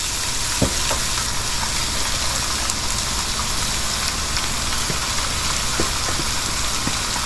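Lengthwise-chopped onions sautéing in a pan for Kerala-style egg puff stuffing, a loud, continuous close-up sizzle with occasional faint clicks, no voice.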